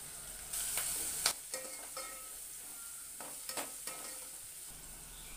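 Green chillies, ginger, garlic and turmeric sizzle quietly in a pan with onion, with a steady low frying hiss broken by several sharp stirring clatters of a spoon against the pan.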